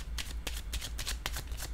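Tarot cards handled and laid down on a surface, giving a quick run of close, crisp papery slaps and shuffling flicks with no voice over them.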